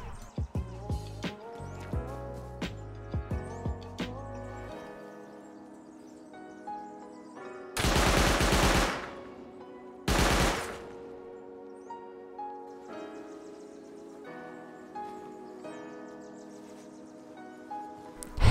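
A turret in the Rust video game fires two loud bursts of rapid gunfire, each lasting under a second, amid quieter game sounds and musical tones.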